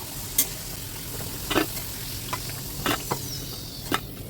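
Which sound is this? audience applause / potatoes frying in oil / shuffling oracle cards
potatoes frying in oil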